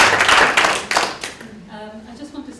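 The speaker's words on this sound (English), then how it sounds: "So give her a good round of applause." A seminar audience gives a short burst of clapping for a research presenter. The dense applause lasts about a second before fading, and a voice follows.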